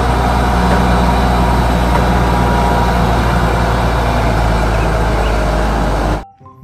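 A toy big excavator's engine sound effect drones as a loud, steady low rumble like a heavy diesel idling, unbroken for several seconds before stopping abruptly.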